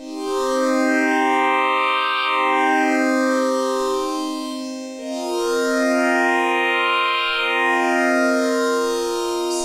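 A bright, high-pitched Minifreak synth tone sweeping up and down in two long rising-and-falling swells, buzzy and siren-like, with no other sounds.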